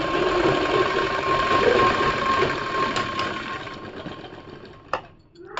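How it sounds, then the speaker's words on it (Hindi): Sewing machine running steadily for a long stitching pass along a seam on a palazzo pant, with its hum and rapid needle chatter continuing until a brief handling clack near the end. "यहाँ मुझे सिलाई लेकर उतार लेनी है"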